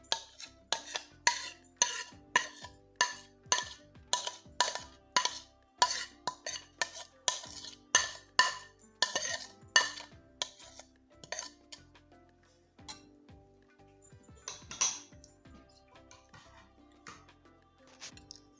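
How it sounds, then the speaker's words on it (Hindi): Chana chaat being mixed with yogurt raita in a bowl: a steady run of bright spoon clinks and scrapes against the dish, dense and rhythmic at first, then sparser and softer toward the end. "जी अब हम अच्छे से मिक्स कर लेंगे अपनी दही को अपनी चाट में"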